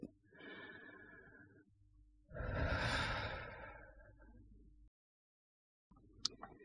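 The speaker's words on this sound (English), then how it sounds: "And now take a deep breath." A slow, deep breath taken during an EFT tapping sequence, a soft drawn-in inhale followed by a longer, louder sighing exhale, close and alone with a brief quiet pause after.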